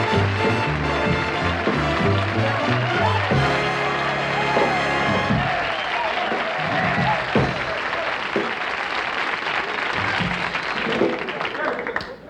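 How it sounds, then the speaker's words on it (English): A studio audience applauds Steve Allen on a CBS comedy-variety show, loud and sustained with some cheers. Band music plays under it at first, then the clapping carries on alone and swells. "I don't think we can follow that applause"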